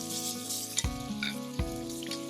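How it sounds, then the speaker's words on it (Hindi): Finely chopped onion sizzling in hot oil with crackled cumin seeds for a carrot and fenugreek vegetable dish, a steady close frying crackle with a couple of sharp clanks from stirring or the pan. "तो देखो जीरा तड़क गया, अब डालेंगे हम प्याज।"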